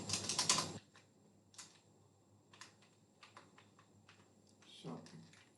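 Computer keyboard being typed on while building an Asp.Net MVC page, a loud burst of rapid keystrokes followed by scattered single clicks and short runs, with someone talking quietly in between.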